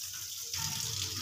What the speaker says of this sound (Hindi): और इरम कर रही है चिकन वॉश।